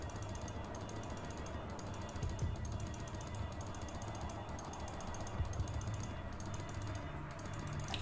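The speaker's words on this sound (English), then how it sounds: "we're going to chisel every single race course map." Maps are chiseled in Path of Exile with rapid, regular ratchet-like clicks repeating steadily throughout at low volume.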